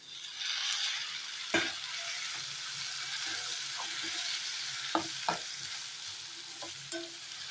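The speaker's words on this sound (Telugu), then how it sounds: "టమాటా ముక్కలు వేసి బాగా కలుపుకొని దీని మీద మళ్ళీ మూత పెట్టుకున్నాం" Tomato pieces are stirred into a pan of simmering dosakaya (yellow cucumber) curry, giving a steady soft sizzle with occasional spoon scrapes and clinks against the pan.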